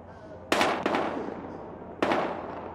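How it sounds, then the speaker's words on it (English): Gunfire in the Battlefield Hardline video game: three sharp, loud shots, two close together and a third a little over a second later, each with a short ringing tail over a low steady background hum. "We've got gunshots."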